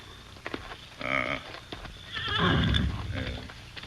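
Horses whinny and neigh close by, with hooves clopping and shuffling around them.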